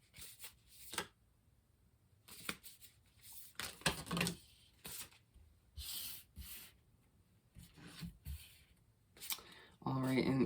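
A deck of tarot cards being shuffled in short, soft, irregular bursts of shuffling and tapping, close but quiet, with speech starting near the end.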